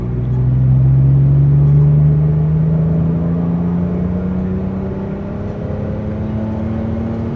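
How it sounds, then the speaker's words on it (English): A V12 BMW E31 850i pulls hard up a hill in third gear, its engine note rising steadily in a smooth climbing drone with a deep rumble, loud and close throughout. "clean acceleration up the hill in third"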